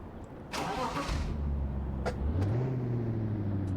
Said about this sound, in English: What engine's this?